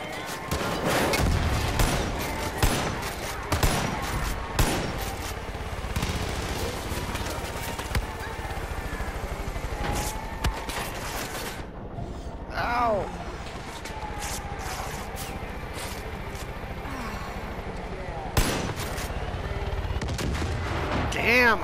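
Lever-action rifle shots in Far Cry 5, several sharp cracks spread across a busy game scene with horse hoofbeats and other action, while a player talks over it.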